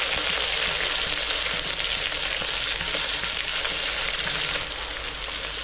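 Onion frying in hot oil with mustard seeds, dry red chillies and curry leaves for a Kovai-style thattapayir rice, giving a loud, steady, close sizzle with no pauses and no talking.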